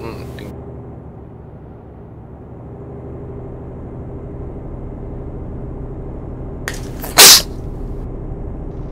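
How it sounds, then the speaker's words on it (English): A single sharp sneeze bursts into a microphone near the end, loud and close, over a steady engine drone from a truck driving game. "that was a sneeze, and I didn't get my mic's mute button in time."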